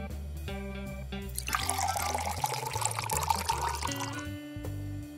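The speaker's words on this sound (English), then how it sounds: "Pour boiling water over dried chamomile." Boiling water pours from a kettle over dried chamomile in a container, a short burst of splashing, trickling liquid rising in the middle of the clip and tapering off, with faint clinks around it.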